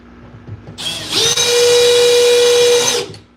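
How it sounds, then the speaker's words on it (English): A power drill drives a screw during an assembly job, one sustained close whine of roughly two seconds that rises in on startup and cuts off abruptly, with no voices. "I'm sorry if the drill is super annoying,"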